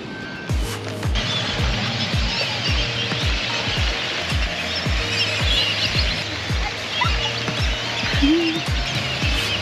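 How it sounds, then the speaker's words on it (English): Many birds chirp and call steadily in open air in a New Orleans park, with a regular low thumping and faint traffic underneath. "Oh, you hear all those birds?"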